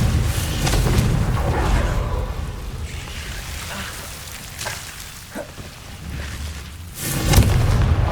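A Confringo fire spell blasts in Hogwarts Legacy, with deep rumbling booms and crackling bursts over dense game noise, swelling again near the end.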